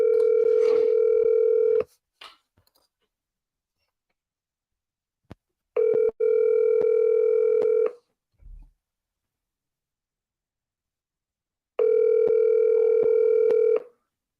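A telephone ringback tone sounds while calling an agent's cell phone, three long steady buzzes separated by silent gaps, loud and alone.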